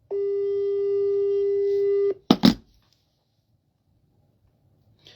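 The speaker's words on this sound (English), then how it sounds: "It's ringing now." A telephone call tone holds steady for about two seconds, then two sharp clicks follow and the line goes almost silent.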